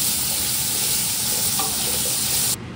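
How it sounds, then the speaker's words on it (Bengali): Potatoes and cauliflower fry in a pan with a loud, steady sizzle and crackle of hot oil, plus faint stirring, continuing without pause until it cuts off abruptly near the end. "এখন ভাজা করছে আলু, আলুগুলোকে গোল্ডেন ব্রাউন করে ভাজা করে নেবে।"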